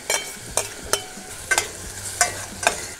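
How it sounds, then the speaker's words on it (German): Onions frying in clarified butter in a pot on a grill side burner, a soft sizzle punctuated by about seven sharp scraping clinks as a utensil stirs them, close and without speech. "dann gebe ich hier die Zwiebeln dazu."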